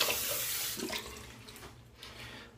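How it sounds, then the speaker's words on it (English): Water runs from a kitchen or bathroom tap as hands are rinsed beneath it, a close, steady splashing hiss that tapers off near the end. "rinse my hands real quick"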